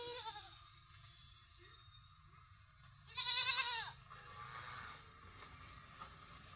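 A goat in a Bangladeshi village homestead, where pregnant does and kids are kept, lets out one loud, wavering bleat midway through, with a quiet rustling background before and after.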